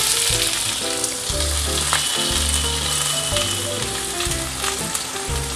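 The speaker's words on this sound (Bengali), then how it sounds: "তারপর আমি পেঁয়াজটা দিয়ে দিলাম।" Onion hitting hot oil with tempered spices in a pan while cooking Malabar spinach chochchori, giving a loud, steady crackling sizzle with faint stirring clatter throughout, no voices.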